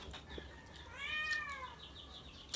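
A single cat's meow rises and falls in a clear tonal wail, moderately close, over faint background noise during an outdoor meal of grilled fish.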